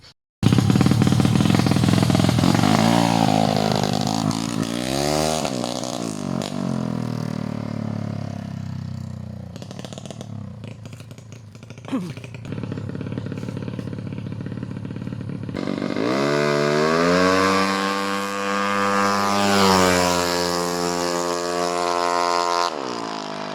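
A Honda motorcycle engine runs and revs up close, its pitch climbing and falling through repeated throttle blips, then settling before a final strong rev.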